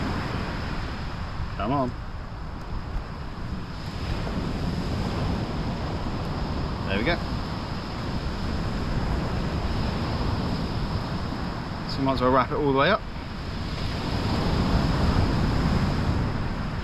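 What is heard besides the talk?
wind blowing at the seashore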